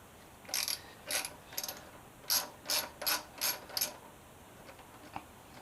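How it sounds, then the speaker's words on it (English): A ratchet with an 8mm socket turning a bolt on an MV Agusta F3 motorcycle, about eight crisp clicking bursts in an uneven rhythm, close and clear, then a single faint click after a pause. "8mm socket. We're going to release this bolt here. So I get the ratchet set the right way."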